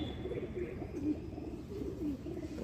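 Soft, low cooing of a pigeon on a house rooftop, a few faint rounded coos over a steady background hum, fairly distant and without speech.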